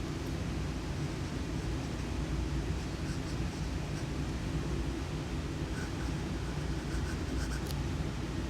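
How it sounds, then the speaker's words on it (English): Fountain pen nib, a Lotus Virat filled with Noodler's Heart of Darkness ink, scratching steadily across paper in a continuous low rustle with faint ticks, close and quiet, with no voices. "Okay, here we are with the writing sample."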